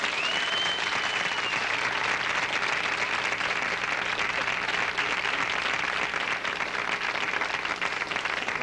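A television studio audience for a 1977 talk-show parody applauds steadily, a thick, even wash of many hands clapping that holds at constant loudness throughout, with a faint tone running beneath.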